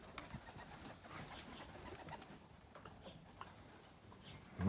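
A racing pigeon coos faintly at a loft in Garstang on race day, soft low calls blending into steady background noise with no speech.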